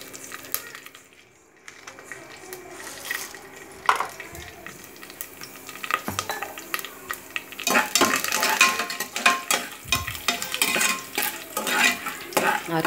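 Mustard seeds, curry leaves, chana dal and urad dal frying in hot oil for rice upma, a dense crackling sizzle that builds and stays loud, with a few scrapes of a stirring utensil.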